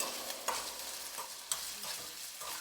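Potato pieces frying in hot oil in a home kitchen for alu fry, with a steady soft sizzle and a couple of sharp spits or clinks from the pan, no talking.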